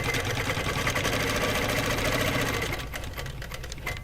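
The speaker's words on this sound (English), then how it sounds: "I'm quilting my quilt at the same time" A longarm quilting machine stitches a quilt at a quick, steady pace, its motor whirring loud and continuous, then easing slightly softer toward the end.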